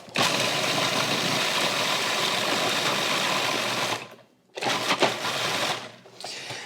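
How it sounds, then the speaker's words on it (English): A food processor whirs loudly and steadily for about four seconds, stops briefly, then runs again in shorter bursts. "we're going to process that all in the food processor, so there's going to be a little bit of noise"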